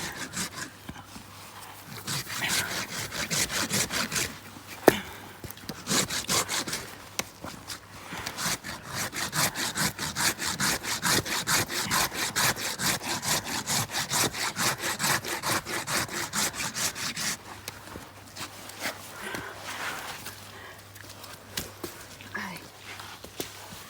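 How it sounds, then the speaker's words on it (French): Hand rasp filing in long repeated rhythmic strokes, a close, steady coarse scraping that pauses briefly now and then. "je mets ma râpe dans le même angle à peu près que je dois avoir"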